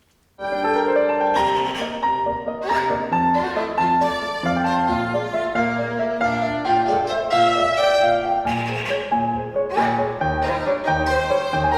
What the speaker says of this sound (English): I decided to use chichara on the downbeats instead of the 16th note double stops